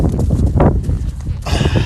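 A ridden horse during neck-rein training, hooves clip-clopping close and loud before a brief whinny near the end.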